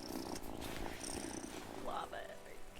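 A cat purring in the video game Wylde Flowers, a soft, steady rumbling purr that runs through the whole moment with a voice talking over it.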